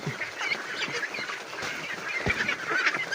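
Ducks feeding on banana and rice bran, a busy flock honking and quacking close by in a continuous noisy chatter.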